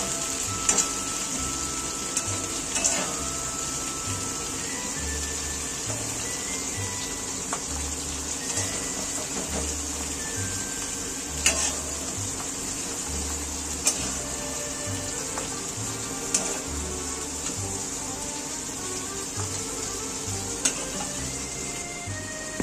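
Okra and shrimp frying in oil in a pan give a steady, even sizzle throughout, with a low rumbling hum underneath and occasional light clinks and taps.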